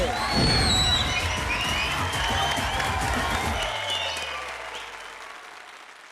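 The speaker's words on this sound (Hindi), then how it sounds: "उनकी तालियों से समझ ही गए होंगे" A game show studio audience claps and cheers in a full burst of applause that gradually thins and fades out toward the end.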